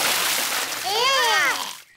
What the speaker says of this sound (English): Daddy Pig has splashed everyone with water.